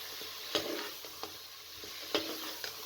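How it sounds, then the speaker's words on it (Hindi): Masala frying in a pan with turnip and whole chillies for a mutton keema dish, a soft steady sizzle with a few sharp spoon scrapes and knocks against the pan; no talk. "अब मसाले को अच्छे तरीके से आपने इस तरह भून लेना है और साथ में 3 से 4 अदद साबुत मिर्चें और शलजम को शामिल कर दें।"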